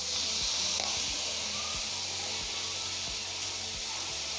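Chicken and vegetable macaroni fries in a pan after a tablespoon of soy sauce goes in, giving a steady, close hiss of sizzling with faint scraping stirs through it.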